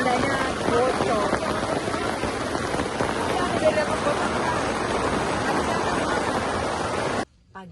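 Steady, dense rain drums on a leaking tent pitched on Mount Salak, reached via the Cibalai route, a continuous close hiss of drops that runs unbroken for several seconds and then cuts off abruptly near the end.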